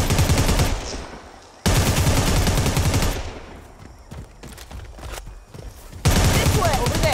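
Gunfire in the video game Predator: Hunting Grounds: loud, sustained automatic bursts that stop and start, with quieter scattered shots and shuffling between them.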